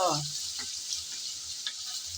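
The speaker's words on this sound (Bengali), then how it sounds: "পেঁয়াজ আমি নেড়ে চেড়ে সামান্য ভেজে নেব" Onion frying in oil as it is stirred, a soft steady sizzle with a few faint scrapes and a brief clatter at the start, fairly quiet and close with no voices.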